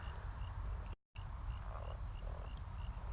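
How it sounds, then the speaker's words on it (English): Frogs croak around a small pond in a young food forest garden, a dense outdoor chorus with faint repeated calls over a low rumbling background, no talk. "You can actually hear the frogs."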